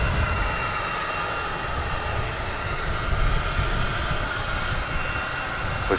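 A United Airlines airliner at Logan airport, its wing damaged by a bird strike, runs a jet engine with a loud, steady broadband roar and whine, continuous and close, with no talk.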